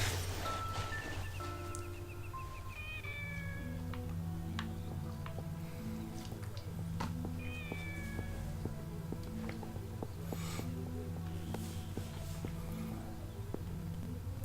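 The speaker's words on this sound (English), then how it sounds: "I thought Kitty was a pretty good name for the cat." A cat meows repeatedly in the video game Shenmue, its short calls recurring over a steady low ambient hum and game music, with no talking.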